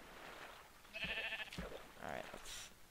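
Minecraft sheep bleat a couple of times amid other game sounds, fairly faint and partly under a person talking.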